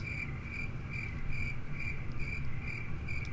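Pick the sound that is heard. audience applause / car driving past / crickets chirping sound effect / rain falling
crickets chirping sound effect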